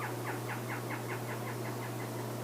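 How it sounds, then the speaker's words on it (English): A free-tailed bat homes in on prey with its echolocation calls, which sound here as a quick series of chirps that speed up and crowd together. They play faint over a steady low hum and noise. "This is the sound of a free-tailed bat getting closer and closer to its target."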